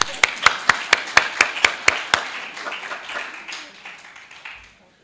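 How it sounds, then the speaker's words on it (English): A small audience at a community kickoff event gives itself a round of applause. It opens with a run of crisp, rhythmic close claps that loosen into scattered, softer clapping and fade out within seconds. "I would suggest that we start by giving ourselves a round of applause"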